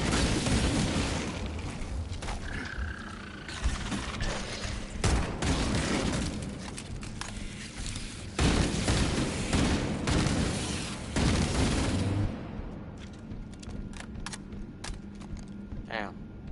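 Gunfire in Halo Campaign Evolved on PS5, repeated sharp shots and bursts over a rumbling combat bed, loud and close, spread across the stretch with several heavier reports and a quieter tail, while players talk over the action.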